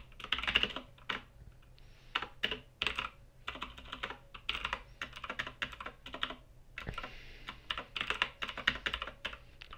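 Rapid typing of HTML on a computer keyboard, a close, busy clatter of key presses in irregular bursts with short pauses, continuing for about ten seconds with no voice over it.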